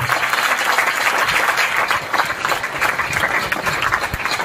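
Seminar audience applauding motivational speaker Aman Dhattarwal in Faridabad, a dense, sustained burst of clapping from a large crowd, steady and fairly loud throughout.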